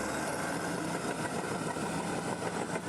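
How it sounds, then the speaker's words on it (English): A tractor engine grading a sidecar race track drones steadily at a distance for a few seconds, a continuous broadband rumble with no pauses or talk over it. "Well, the tractor's still grading"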